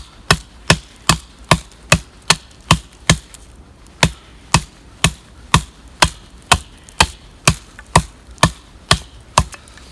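Steady, evenly spaced chopping strikes from an ESEE 5 fixed-blade knife, about two per second, each a sharp loud impact with a quick decay, continuing alone without talk.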